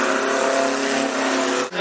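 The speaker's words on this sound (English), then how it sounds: "This is Andrew Salmon as the Hornets come out to qualify." Hornets class race cars roll out to qualify at Cottage Grove Speedway, a loud close engine drone with a steady harmonic whine that cuts off abruptly near the end.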